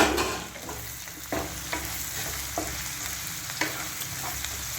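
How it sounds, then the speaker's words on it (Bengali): Fried chicken pieces are stirred into a pan of frying capsicum and onion, a continuous close sizzle broken by several distinct scraping stirs of a utensil against the pan. "এই যে সমস্ত চিকেন ভাজাটা দিয়ে দেবো এর মধ্যে"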